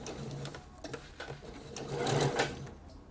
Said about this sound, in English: When you're happy with your sleeve, you can sew it in.